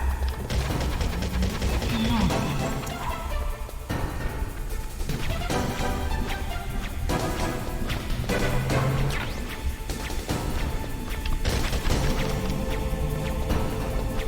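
Dense bursts of gunfire and crashing impacts in Metal Gear Solid, loud and continuous over layered game sound effects, with no clear break.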